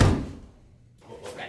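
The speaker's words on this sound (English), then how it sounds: "Cassandra, close the door." A door slams shut with one loud, close thud at the start, then the sound fades quickly. A fainter knock or shuffle follows about a second later.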